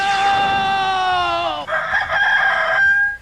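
A giant flaming rooster in the video game Mega Man X8 gives one loud, close cock-a-doodle-doo, a long sustained crow that shifts pitch partway through and holds to the end.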